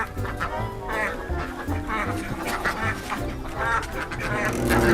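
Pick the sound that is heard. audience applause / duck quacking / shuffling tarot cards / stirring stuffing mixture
duck quacking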